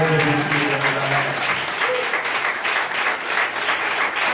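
A church congregation bursts into loud, continuous applause, many hands clapping together with faint voices calling out beneath.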